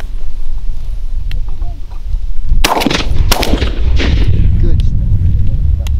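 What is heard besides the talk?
shotgun shots while hunting mourning doves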